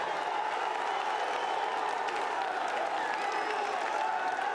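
Crowd at an EA FC 24 esports group-stage match at the Esports World Cup cheers and applauds in a steady, dense roar that stays loud and continuous throughout.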